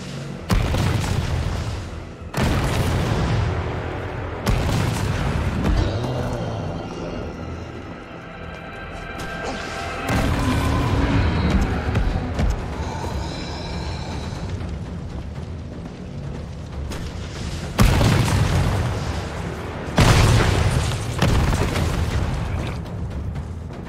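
Rocket launcher explosions in Resident Evil 3: several heavy, booming blasts at intervals, loud and close, with rumbling mechanical game noise between them.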